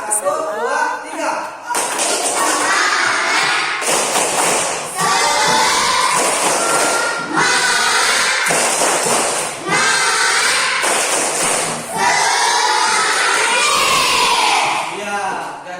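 A classroom of schoolchildren loudly shouts the rhythmic tepuk semangat chant, punctuated by thumping claps in repeated bursts separated by short pauses, close and energetic.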